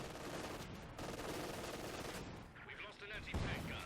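Machine gun fire in the World War II strategy game Company of Heroes 2, a dense sustained rattle of rapid shots blending with other battle gunfire and explosions, loud and continuous.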